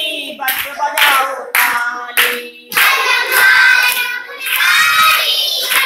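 Children clap their hands along to a Hindi alphabet song, with loud, close, sharp claps landing between the lines of bright singing.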